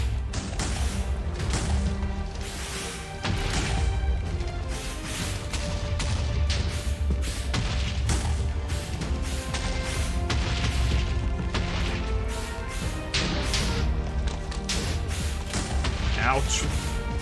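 A fight with the wither boss in the video game Minecraft, a dense stream of crashes, booms and thuds over continuous game sound, loud throughout, with a voice talking over it.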